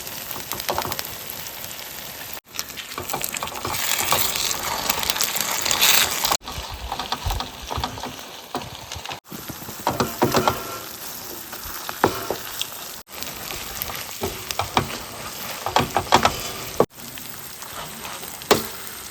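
Sizzling from a pan of halva as beetroot juice is poured in, a steady loud crackling hiss with intermittent bubbling and stirring scrapes throughout.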